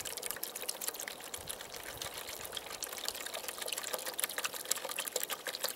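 Water poured from a container into a bucket beside a campfire for stone boiling, a steady trickling splash with a faint hiss that runs the whole length at low volume.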